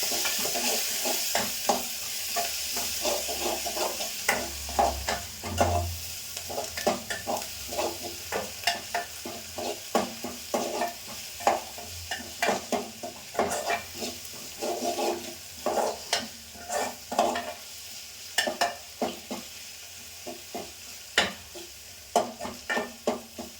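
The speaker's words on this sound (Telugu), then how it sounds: "ఒక టేబుల్ స్పూన్ అల్లం వెల్లు అల్లం వెల్లుల్లి పేస్ట్ వేసి కలుపుకోవాలి" Ginger garlic paste, about a tablespoon, stirred into a hot frying pan of fenugreek-leaf curry, giving steady sizzling with repeated scraping strokes of a spatula against the pan, close and fairly loud, with no talk.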